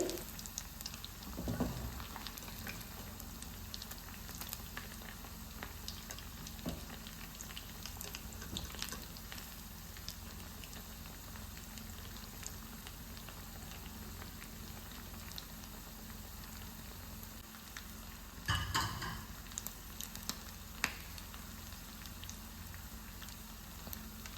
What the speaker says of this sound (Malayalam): ഇനി ഇത് നന്നായിട്ട് ചൂടായിട്ടുള്ള എണ്ണയിലിട്ടിട്ട് നന്നായിട്ടൊന്ന് ഫ്രൈ ചെയ്തെടുക്കാം